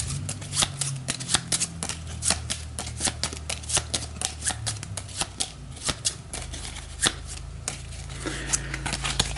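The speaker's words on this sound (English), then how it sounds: "we'll shuffle the rest of these" Deck of game cards being shuffled for a board game of Age of Innovation, a dense run of crisp riffling snaps and flutters repeating close up, with a steady low hum underneath and no talk.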